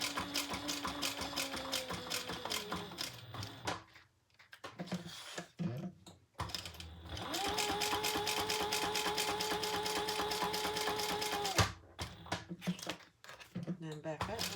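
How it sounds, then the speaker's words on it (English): A sewing machine back stitching a leather roper wallet, running in steady rapid bursts with a brief pause in the middle and short stops near the end, close and loud. "I am back stitching here because it's going to get a fair amount of use."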